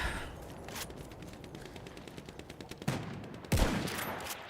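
Gunfire in the video game Helldivers, rapid automatic bursts with a few heavier louder shots and blasts near the end, continuous rattling, no talk.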